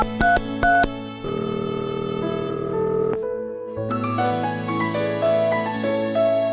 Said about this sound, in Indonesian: Telepon ah.